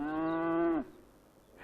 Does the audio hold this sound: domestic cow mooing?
yes